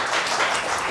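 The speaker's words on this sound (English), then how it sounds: "Isn't that neat, that applause?" A small studio audience at a cooking demonstration claps briefly, a short burst of dense applause heard close and moderately loud.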